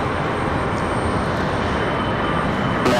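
An Avelo Airlines airplane flies at night at RDU airport, a steady broad engine roar heard from a distance without a break and with no voices.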